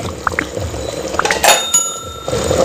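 A pot of chicken curry bubbles and simmers close by, with a few light metallic clinks mixed into the liquid sounds.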